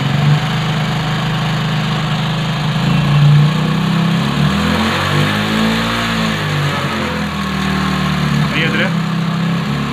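A motorcycle engine, just self-started, runs at a fast, high idle with a steady mid-range drone that rises and dips slightly, loud and close, with someone talking over it.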